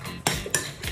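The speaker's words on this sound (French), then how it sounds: "J'incorpore et je mélange bien le tout." Quick metal utensil clinks and scrapes against a dish while trout is mixed with Chinese spice powder, three short bright strikes close up.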